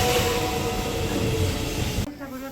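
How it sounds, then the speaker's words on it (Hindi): A local train on the Joban Line in Japan rumbles loudly into a station platform with a steady roar, then drops off suddenly near the end. A platform announcement voice is heard. "1番線に各駅停車柏行きが参ります。"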